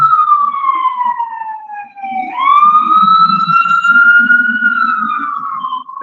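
An ambulance or rescue squad siren wails loudly and close, a long falling tone that drops and then rises again, with engine rumble beneath.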